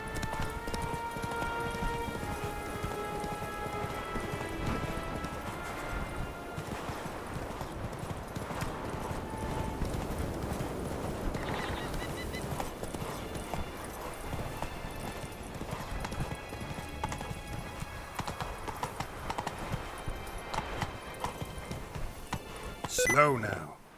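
Roach the horse gallops in The Witcher 3 with rapid, steady clip-clop hoofbeats up close throughout, mixed with game ambience and tonal effects and a short louder burst near the end; some speech is also present.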